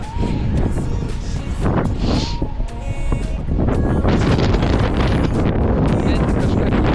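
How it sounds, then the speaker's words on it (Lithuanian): Wind gusts across a canal during perch fishing, buffeting the microphone in a loud, constant rumble, with a person talking over it at times. "Aiškus vėjas irgi."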